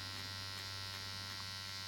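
A powder brows tattoo machine hums continuously with a steady, close electric buzz as its needle strikes skin in short, rapid strokes, with no pauses.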